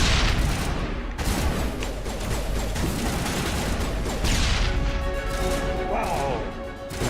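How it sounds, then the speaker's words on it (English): A grenade is thrown and detonated during a firefight in Mass Effect Legendary Edition, set within dense, continuous gunfire and crashing blasts that fill the whole stretch at a loud, steady level. "Throw a grenade, press it again to detonate it."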